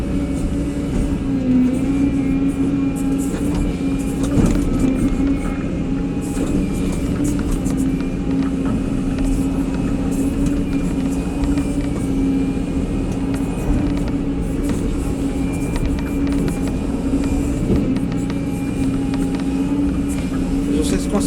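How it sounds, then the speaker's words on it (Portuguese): A CAT 313D2L excavator running steadily while clearing stumps, its engine droning loud and constant with a high whining tone riding over it, under occasional talk. "Essa máquina zoa a turbina demais. Ela zoa muito a turbina."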